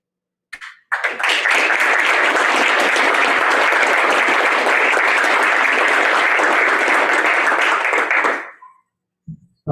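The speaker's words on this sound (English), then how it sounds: "Probably the last applause I'll ever see in council." Dense applause fills a municipal council chamber for about eight seconds, starting abruptly and fading out, followed by a brief moment of near silence.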